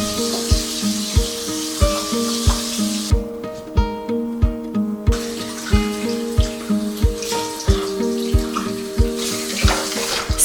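Garden plums being washed under a running kitchen tap, a steady rush of water with rhythmic knocks and splashes as the fruit is handled, close and continuous with no talking.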